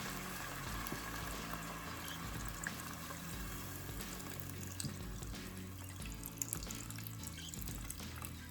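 Regular sodium broth poured from a carton into a pot of ham and pinto bean soup, giving a steady liquid gurgle and splash that runs nonstop at close range without talk.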